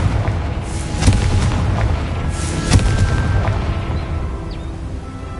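A Confringo fire spell bursts in the video game Hogwarts Legacy, a heavy booming blast over a dense rumbling bed, with a couple of sharp cracks and a lingering roar that slowly fades.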